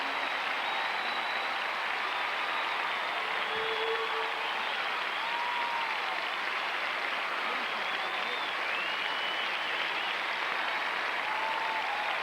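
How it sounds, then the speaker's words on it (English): Large stadium crowd applauding at an Olympic opening ceremony, a dense, continuous roar of clapping throughout, with faint cheers and a speaking voice mixed in. "The entire crowd has jumped to its feet for Bob Hope"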